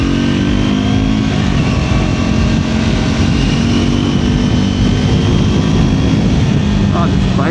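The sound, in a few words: Triumph Scrambler 400 XC motorcycle engine while riding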